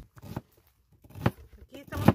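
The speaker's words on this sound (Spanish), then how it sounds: "Aquí estamos picando la cebolla." A knife chops onion on a cutting board in a few short bursts of crisp slicing separated by pauses, close and fairly quiet.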